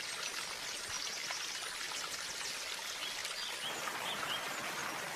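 A stream turned into a leat runs toward a mill waterfall, giving a steady, even rushing and trickling of water that holds at a low level throughout with no other sounds.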